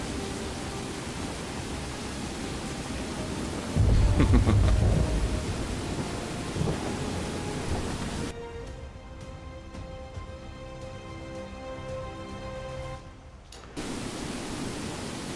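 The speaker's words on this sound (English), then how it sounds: "we'll just sit here and listen to the rain" Steady broadband rain hiss in Skyrim, a continuous wash of falling rain that fills the scene, interrupted by a brief louder rumble and a shift in tone partway through, with no talking.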